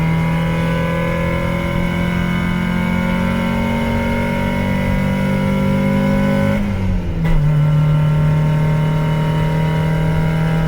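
A car engine drones steadily while driving, holding a sustained tonal hum that dips briefly as the gears shift, then settles back to a strong, even pitch under constant road noise.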